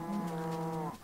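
A single sustained cow moo from Minecraft, a steady harmonic low call held for about a second before cutting off, clear and close with no talking.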